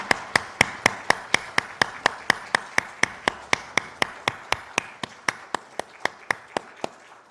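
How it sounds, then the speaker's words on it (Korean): A church congregation at a Sunday joint worship service claps in tight unison, a steady run of sharp, evenly spaced claps at about four per second, holding pace for seven seconds and softening slightly toward the end. "하나님께 영광의 박수 올려드리겠습니다."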